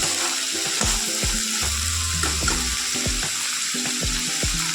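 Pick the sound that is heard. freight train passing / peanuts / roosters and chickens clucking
peanuts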